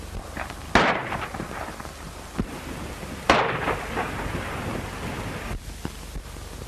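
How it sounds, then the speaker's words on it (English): Gunshots in a 1935 western film: two loud cracks echo across open country, each trailing a rumbling decay, with a few fainter distant shots between and a windy hiss underneath, no talking. "people started shooting at each other for no dad-burn reason"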